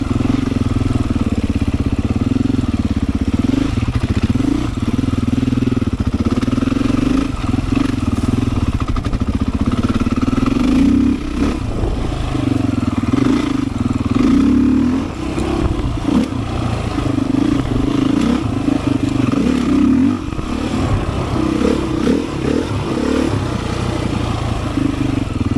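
A Beta 500 dirt bike engine drones steadily and loud throughout a trail ride, with a constant mid-pitched motor hum, small throttle surges and occasional mechanical clatter, and no talk over it.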